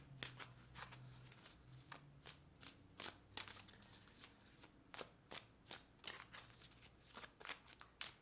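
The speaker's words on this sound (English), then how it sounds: "I'm just going to pull some cards from the universe" Tarot cards shuffled by hand in a quiet room, a soft run of riffling flicks and papery snaps repeating at an uneven pace, close and gentle with no talking.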